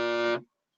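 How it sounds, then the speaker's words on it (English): A loud, harsh electronic alarm buzzer sounds as a dog-feeding reminder, a single steady tone lasting under half a second before cutting off abruptly into silence. "That is my alarm to feed the dogs."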